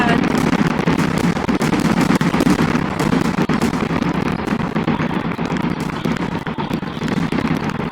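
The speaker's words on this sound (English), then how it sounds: "There's too many fireworks." Fireworks in the video game Fireworks Mania crackle and pop in a dense, continuous barrage of loud, close bursts with no pauses.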